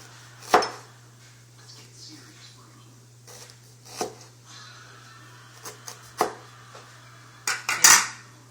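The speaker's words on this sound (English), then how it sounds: "Let me slice my kalanka." Fresh galangal is being sliced with a knife on a cutting board in a home kitchen while soup pots boil, giving a few sharp, separate chopping knocks spread out over a low steady hum, with a louder clatter near the end.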